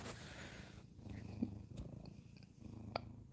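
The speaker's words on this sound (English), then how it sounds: "Do y'all hear Gray purring?" A cat's soft, steady low purr rumbles throughout, faint and close, with a couple of brief higher squeaks on top and no voices.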